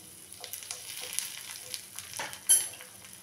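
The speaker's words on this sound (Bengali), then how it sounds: "তো তেলটা গরম হয়ে গেছে, এখানে আমি দিয়ে দিলাম খানিকটা হিং।" Asafoetida frying in hot mustard oil while being stirred, a soft steady sizzle with light scraping strokes and a sharper spoon clink near the end, no talking.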